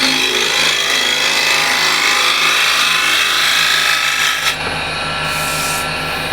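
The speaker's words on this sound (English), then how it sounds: "let's see how it scrapes here the side grain" A hand scraper with a large hooked burr works the side grain of wood in continuous rasping strokes, loud and close. The strokes stop near the end, leaving a brief quieter pause and no voices.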